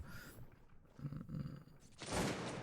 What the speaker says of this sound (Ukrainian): Дають постріл, гренадери, кидають гранати